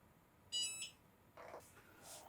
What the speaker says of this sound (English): the mug press is ready to go. It beeped at us